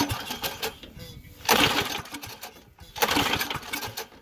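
A Yerf Dog go-kart engine sparking and trying to turn over, heard as two or three surging bursts of rough cranking and sputtering, fairly close and uneven, with short lulls between attempts.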